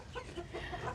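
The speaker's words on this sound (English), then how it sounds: "this is the Polish rooster" A Polish rooster clucking softly nearby, a few short throaty clucks in quick succession against faint farmyard background.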